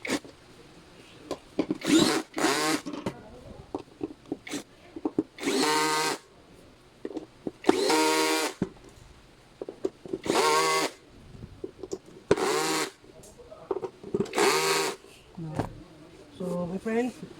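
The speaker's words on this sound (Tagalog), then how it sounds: "the bolt for this is the 20 mm. And then we're going to tighten the bolt." Bolts being tightened while assembling a black mesh office chair, with repeated bursts of a whirring power tool driving a 20 mm bolt, separated by short gaps and clicks, close by, while someone talks between bursts.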